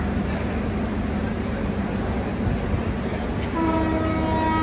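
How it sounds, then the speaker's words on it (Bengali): A train sits at a station and begins to pull away, its low rumbling churn rising steadily until a sustained horn blast sounds near the end, loud and close under light background bustle. "এটা হয়তো ট্রেন এখন ছাড়বে"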